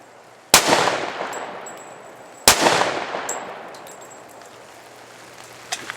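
Two S&W M&P 2.0 10mm pistol shots fired at a steel silhouette 60 yards out, each a sharp loud crack with a ringing decaying tail, spaced about two seconds apart, with faint small clicks afterward.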